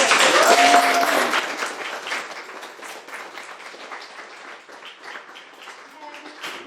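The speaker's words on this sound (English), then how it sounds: "Big applause for everyone." Audience applause at an architecture book presentation, starting as a loud full burst of clapping that gradually thins and fades into scattered claps, with a voice briefly heard partway through.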